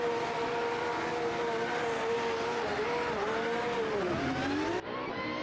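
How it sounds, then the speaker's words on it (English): Drift cars at a Montreal competition rev their engines at the start line, a loud sustained roar with rising and falling revs that climbs sharply near the end, then cuts off abruptly. "Drivers are revving their engine."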